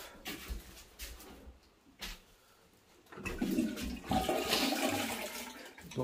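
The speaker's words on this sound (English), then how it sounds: "What were you doing, just checking the flush?" A newly installed toilet on a high-rise construction site flushes, a rushing swirl of water swelling after a couple of brief knocks and continuing loudly to the end, with no talking.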